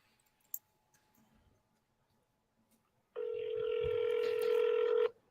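A phone call dials out with a few faint clicks and quiet handling, then a loud steady electronic tone sounds for about two seconds as the call is routed to voicemail.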